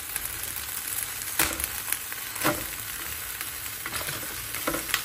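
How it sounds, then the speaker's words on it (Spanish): Six tomatoes, six chiles and garlic cloves sizzling as they roast on a hot griddle, a steady close crackle broken by occasional scraping and clatter as pieces are moved. "Aquí los ponemos a asar. Tengo 6 jitomates y voy a poner 6 chiles."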